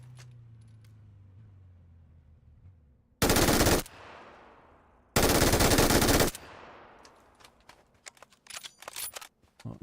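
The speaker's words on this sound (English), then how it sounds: "because I fired my big noisy gun" Two loud, close blasts of gunfire from a big gun in a console battle-royale solo match: a short burst, then a longer sustained one a second later, with quieter game noises and clicks around them.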